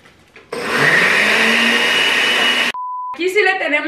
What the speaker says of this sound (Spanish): Y nuevamente licuamos.